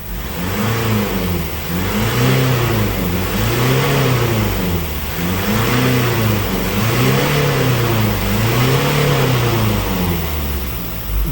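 A car engine with a turbo revs repeatedly as the throttle is pressed, rising and falling in steady cycles of about two seconds, loud and close with no voices.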